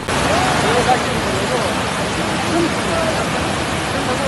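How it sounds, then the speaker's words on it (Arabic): Heavy rain pours in Al Ain, UAE, during a thunderstorm, a loud steady hiss of downpour throughout while someone speaks over it. "مصحوبة بأمطار متفاوتة الشدة غزيرة أحيانا"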